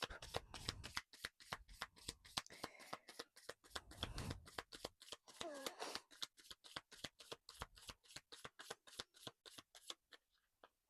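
Affirmation cards are shuffled briskly by hand, a long run of rapid, evenly spaced riffling flicks close to the mic, with faint murmuring in places before the shuffling trails off.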